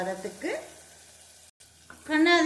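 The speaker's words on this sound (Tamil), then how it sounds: "வெங்காயம், பெரிய வெங்காயம் நல்லா வதங்கணும்." Sliced large onions sauté in a pan with a soft, steady sizzle, while someone talks over it at close range.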